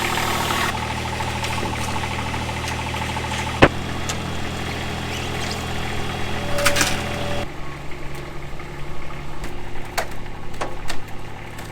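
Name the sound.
Toro Reelmaster 3100D triplex mower engine idling, warming up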